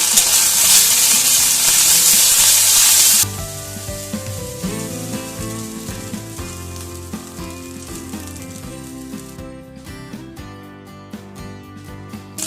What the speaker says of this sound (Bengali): এবার দিচ্ছি আদা কাঁচা লঙ্কা বাটা।